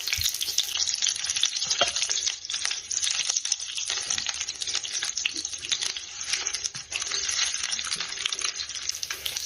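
Meat cutlets for Hatne-style kotlety fry in a pan with a steady, dense sizzle throughout, broken by occasional scrapes and clinks as the patties are turned.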